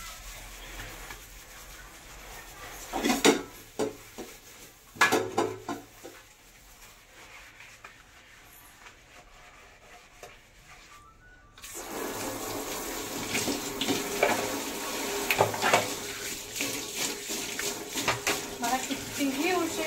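Dishes clink and clatter at a sink, then a tap runs steadily with water splashing for the rest of the clip.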